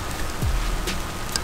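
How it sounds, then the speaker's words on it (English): Torrential rain pours down on an outdoor disc golf course, a brief dense hiss of steady downpour close by, with a low thump partway through. "Freaking torrential downpour."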